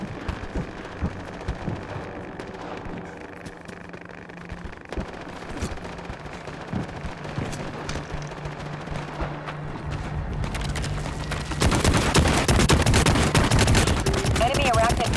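Gunfire in the Starship Troopers: Extermination video game, a dense stream of rapid shots and bursts that swells loud and continuous toward the end over a busy battle mix, with spoken game voices.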